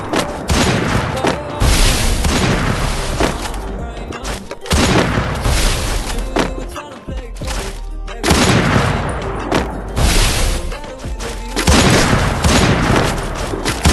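Gunfire in a shooting video game during a sniper round, with repeated bursts of loud booming shots and rapid volleys in several clusters, close and dominant, and no clear talk.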